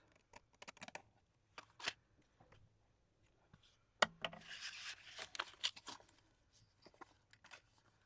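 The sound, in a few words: scissors trimming digital print paper on envelope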